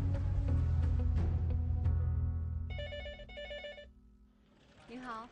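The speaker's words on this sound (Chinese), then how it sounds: "这是12345热线接到的一通市民求助电话" A telephone rings at a 12345 citizen hotline, heard as two short, bright electronic ring bursts in a row. A voice speaks before and after the rings, with music underneath.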